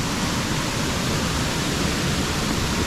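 Twin Falls, a waterfall in the Pennsylvania backwoods, pours over a siltstone lip into a plunge pool, making a loud, constant, close rushing roar that fills the whole moment without a break.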